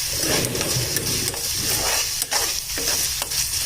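Chicken pieces sizzle and fry with onions in a pan being prepared for chicken samosa, a steady loud hiss with repeated stirring scrapes across the whole stretch.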